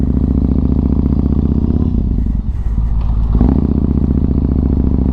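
Camera bracket rattling and clattering on a running motorcycle, loosened by engine vibration, over a steady close engine drone with a brief rougher patch midway.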